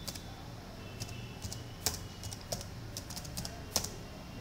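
Close keystrokes on a computer keyboard while text is entered in MS Word 2010, a steady patter of soft clicks with a few sharper taps and no talk.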